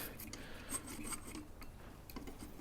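A vintage repulsion induction motor part rubbing as it is turned by hand, a faint close raspy scraping with a few light ticks, quiet and alone.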